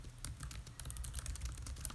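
Typing on a laptop computer keyboard during a live stream, a quick, uneven run of soft, close clicks that continues for two seconds with no talk over it.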